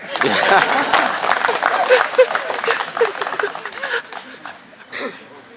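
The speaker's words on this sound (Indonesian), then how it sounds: "Tepuk tangan untuk saya." Audience applause at a village festival in Mamasa, a burst of clapping with chatter and cheering mixed in, strongest early and then thinning out toward the end.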